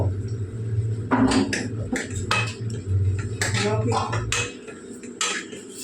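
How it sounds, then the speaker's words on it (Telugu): A spoon stirs coriander powder into tomato curry in a metal pot, making repeated close clinks and scrapes against the pot in an irregular rhythm over a low kitchen hum. "దీన్ని ఇప్పుడు కలుపుదాము"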